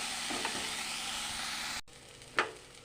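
Boiled banana flower fries in a pan with a soft, steady sizzle, followed by a brief pause and then a single sharp stir or scrape against the pan.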